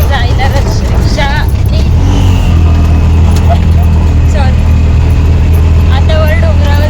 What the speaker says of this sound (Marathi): रिक्षा वर चालली आहे डोंगरावरती